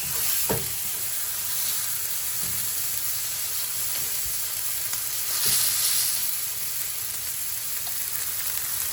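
Seasoned meat searing in a hot pan, a loud continuous close sizzle and hiss with a few brief clinks and scrapes, no talking.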